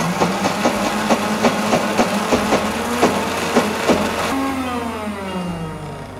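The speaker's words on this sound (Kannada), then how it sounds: "ಈಗ ನಾನು ಮುಚ್ಚಳ ಮುಚ್ಚಿ ರುಬ್ಕೋತೀನಿ ನೋಡ್ರಿ" A closed-lid mixer grinder whirs steadily as it grinds a sweet filling with cardamom, giving a continuous motor drone with rhythmic pulsing, close and fairly loud, and the pitch shifting toward the end.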